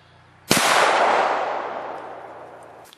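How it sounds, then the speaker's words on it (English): A single .223 rifle shot fired at a steel 3-gun range target at 50 yards: one sharp, loud crack followed by a long, fading outdoor echo that trails off over about two seconds. "We're going to shoot it with 223 at 50 yards."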